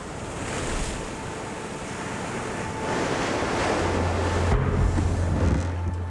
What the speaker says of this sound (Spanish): Las enormes olas están azotando el lateral del barco.